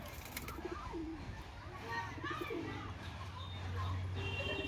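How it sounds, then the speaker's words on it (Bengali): Giribaz pigeons cooing softly at close range in repeated low, rolling calls, with someone talking over them throughout. "এটাকে বলে আবলুক পায়রা।"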